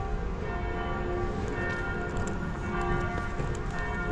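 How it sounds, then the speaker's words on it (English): Church bells ring steadily in Munich's old town, heard from a street with a continuous, dense metallic wash of overlapping tones under city ambience, moderately loud and unbroken throughout. "I got the church bells going as well."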